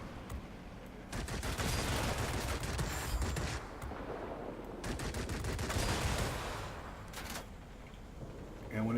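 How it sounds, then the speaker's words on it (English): Aircraft machine guns firing in World of Warplanes, in long sustained bursts with short pauses, loud and dense, with a faint rumble between bursts. "I have been shooting down enemy ground attack aircraft."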